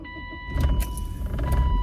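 After a brief electrical whine, a BMW E36 318ti engine cranks and catches, turning over with a rough, uneven rumble for the remaining second.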